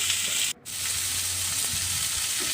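Idli pieces fry in hot oil in a pan for chilli idli, a steady loud sizzle and hiss with a brief dip as the food is stirred, no talking.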